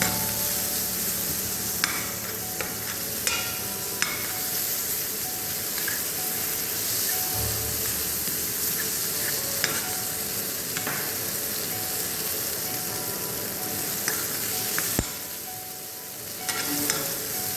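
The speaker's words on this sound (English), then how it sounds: "once the garlic is sauteed, we'll add the onions, sliced onions" Sliced onions and garlic sautéing in a pan for cream of spinach soup, a strong steady sizzle with occasional utensil taps and scrapes, easing slightly near the end.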